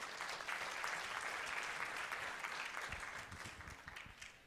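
An audience at a city council candidate forum gives a round of applause, steady dense clapping that gradually thins and fades toward the end.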